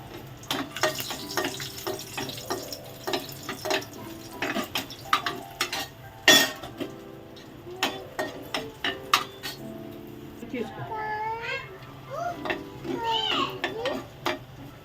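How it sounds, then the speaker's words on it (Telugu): Lentils being tempered in a pan in a village kitchen, with spoon stirring, frequent sharp clinks of utensils against the pan, and a low sizzle underneath. Brief voices are heard near the end. "పప్పు తాలింపు అయితే పెడతాను"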